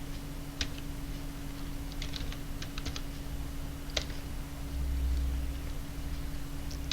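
Keys on a computer keyboard tap in scattered, quiet clicks while text is typed into Microsoft Word, over a steady low hum.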